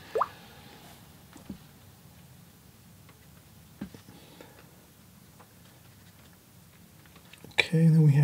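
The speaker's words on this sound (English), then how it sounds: "Some splashes here." Watercolor paint flicked onto paper while painting a building interior makes a few faint, scattered taps and soft splats over a quiet background, with a louder rustle at the end.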